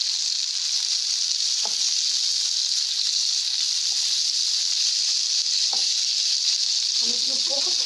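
Chicken seekh kebabs sizzle in a little ghee, a steady bright frying hiss throughout with a couple of soft clicks and a burst of spattering near the end.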